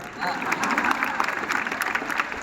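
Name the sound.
audience applause at poetry recital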